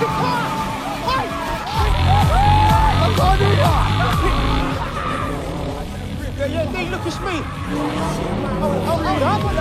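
A car driven recklessly in a film chase scene, from Kingsman, surges loudly with revving engine and squealing tires, mixed with a busy layer of voices and other action sounds.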